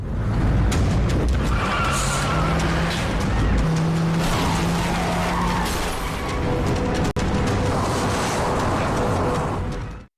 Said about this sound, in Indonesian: Anak buah Mr. Pong mengunci sistem pengereman dan membuat mobil tersebut terus tancap gas.